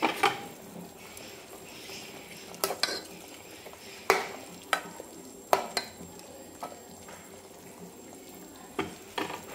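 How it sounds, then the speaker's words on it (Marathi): Mutton being stirred in a pot after half a glass of hot water is added, with scattered scraping clicks of a spoon against the pot over a soft background sizzle, close and fairly quiet. "छान हलवून घेते याला"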